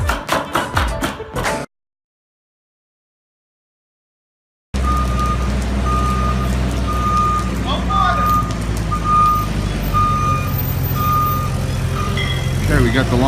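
Lumber delivery trucks at a New Jersey home remodeling site, one carrying Douglas fir, with a repeating reverse-warning beep over engine rumble after a brief silent gap, preceded by a short burst of noise.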